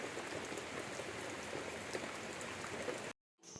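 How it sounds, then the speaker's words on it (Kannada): Heavy rain pours in a dense, continuous hiss of drops on surfaces, then cuts off abruptly near the end before a short return. "ಸಿಕ್ಕಾಪಟ್ಟೆ ಮಳೆ ಉಯ್ತೈತೆ"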